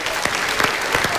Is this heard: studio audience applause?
yes